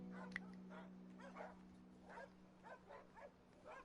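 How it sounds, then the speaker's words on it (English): Dogs barking in the video game Broken Sword 5, a run of distinct yipping barks spaced irregularly over a steady low electronic hum. "Sort of barking dogs."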